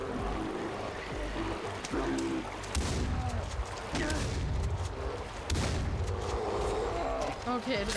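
Gunfire aimed at a bear in the video game Far Cry 4, several loud booming shots spread across a busy, dense mix of game sounds with flowing water and talk running underneath.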